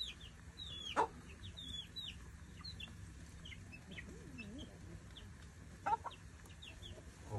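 Chickens cluck and chirp softly nearby, with a few louder sharp calls and faint background clucking from the flock.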